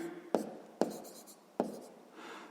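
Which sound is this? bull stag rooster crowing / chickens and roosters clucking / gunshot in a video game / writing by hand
writing by hand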